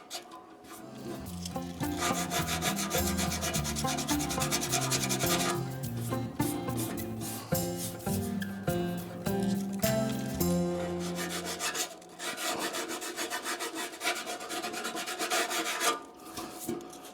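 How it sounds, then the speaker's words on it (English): A Harley-Davidson panel is sanded with 320-grit paper around a paint repair, long stretches of close, steady rubbing in repeated strokes with short pauses between passes. "We're just gonna put a couple inches of 320 scratches around it for the primer to stick to."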